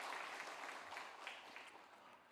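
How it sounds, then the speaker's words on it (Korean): A church congregation applauds in welcome for two deacons during a Sunday worship service, a steady, fairly quiet burst of clapping that slowly fades. "박수로 환영하겠습니다."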